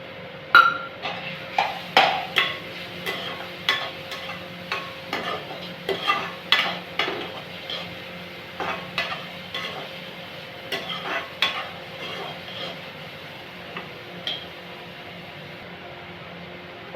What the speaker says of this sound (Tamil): துளியோண்டு நெய் சேர்த்து பரங்கிக்காயை வதக்கிக்கலாம்.